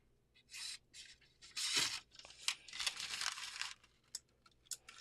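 A sharpened knife slices through paper to test its edge, making crisp bursts of tearing and crinkling in several close strokes, then a few short snips near the end.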